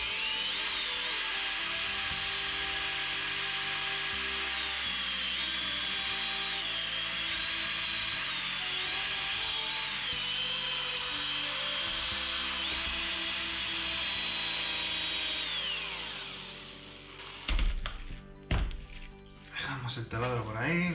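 A power drill working on a tobacco pipe during restoration whines steadily at close range for about seventeen seconds, then winds down and stops, followed by a few brief knocks and handling sounds.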